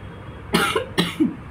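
Two harsh coughs in quick succession, close and loud, with a short gap between them, from a person with a sore throat and fever.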